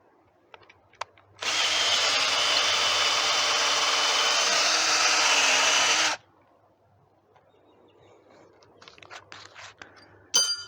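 A Ryobi P215 18V cordless drill bores at speed 1, giving a single loud, steady whirring run of about five seconds. Quiet handling sounds and light knocks come before and after it.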